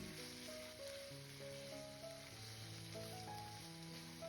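Minced meat and chopped onions fry in a pan with a steady, soft sizzle throughout, and background music plays over it.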